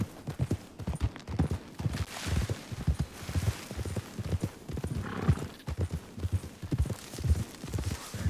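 Horse hooves clip-clop at a steady walking rhythm in the Red Dead Redemption 2 video game, fairly close and continuous, with a brief whinny and faint background hum.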